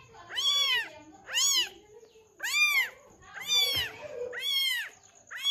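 Several kittens mewing loudly in a repeated series of six high, drawn-out cries with short gaps, close by, with faint background noise.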